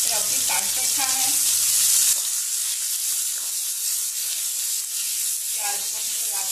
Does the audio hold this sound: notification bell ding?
no